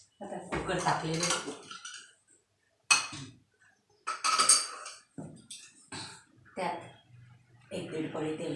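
A pressure cooker is set onto a kitchen stove, giving a few sharp metallic clanks and clatters between stretches of close talking.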